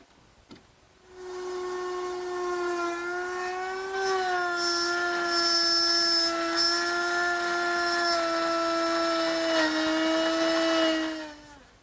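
A wood router cuts a mortise in glued-up poplar, its high steady whine starting abruptly and holding near and loud for about ten seconds, pitch dipping slightly under load before it winds down.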